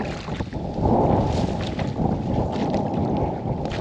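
Strong wind buffets the microphone in heavy, rumbling gusts, with a low roar that rises and falls throughout.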